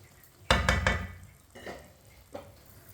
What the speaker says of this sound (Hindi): सूजी को हमने गाढ़ा होने तक पका लिया है।